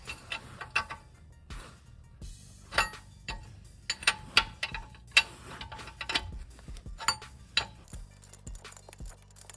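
A socket wrench with a 21mm socket ratchets on a lower control arm bolt of a 2016-2025 turbo Chevy Malibu sprayed with WD-40, giving a steady run of close, rapid mechanical clicks.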